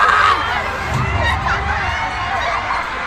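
A large concert crowd at the Puregold OPM Con 2025 screams and cheers continuously, loud and dense, with voices shouting over the roar.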